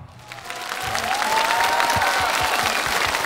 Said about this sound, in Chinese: 来，掌声送给我们所有的乐队老师，好不好？